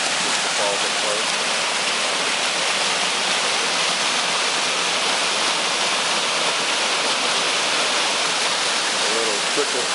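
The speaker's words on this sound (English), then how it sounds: "The falls up close." Waterfall heard from close range beside a walkway deck on a mountain trail in Franklin, North Carolina, a loud, steady rushing roar of falling water filling the whole stretch without a break.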